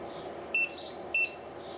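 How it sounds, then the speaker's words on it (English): A LaserPecker 2 laser engraver gives two short, clear electronic beeps about half a second apart as it pairs over Bluetooth, in an otherwise quiet room. "Something beeped."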